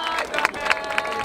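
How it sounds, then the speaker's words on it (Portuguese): Crowd applause and cheering for a rapper at a freestyle rap battle in Barueri, São Paulo, a brief burst of dense clapping with a few sharper claps standing out. "Palmas pra Ravena aí, família!"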